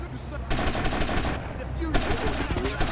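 Automatic weapon fire in GTA Vice City, two loud sustained bursts of rapid shots, one at the start and another late in the clip, over steady game background noise.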